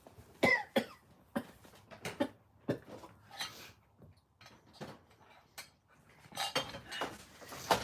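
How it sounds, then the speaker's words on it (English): Repeated sharp coughs, several in quick bursts, mixed with clinking of dishes and cutlery in a quiet room. "I've been having this cough."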